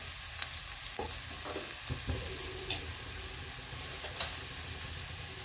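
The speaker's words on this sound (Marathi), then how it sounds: "कांदा छान परतलाय, लसूण पण परतलाय" Chopped onion and garlic are sautéed in a pan for baingan bharta. A soft, continuous sizzle carries occasional light scrapes of a stirring spoon, heard close and fairly quiet.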